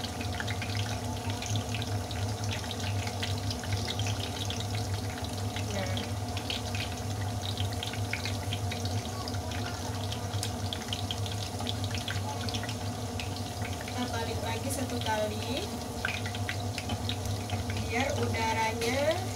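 Corn fritters (bakwan jagung) without egg deep-frying in hot oil, giving a steady, continuous sizzle and bubbling hiss throughout, with a voice talking over it.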